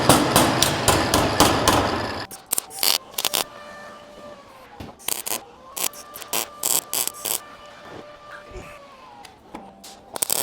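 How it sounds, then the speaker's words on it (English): A hammer strikes a wooden piece on a VW build, starting with a rapid loud flurry of blows, then spaced single knocks with short pauses between them, close by. "I'll hammer that down a little bit."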